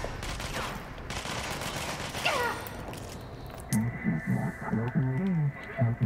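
Gunfire in the video game Control: a dense, steady barrage of rapid shots fills the first few seconds, then gives way to scattered voice sounds and lighter game noise.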